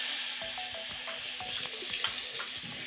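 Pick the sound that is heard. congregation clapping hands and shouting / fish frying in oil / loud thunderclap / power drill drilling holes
fish frying in oil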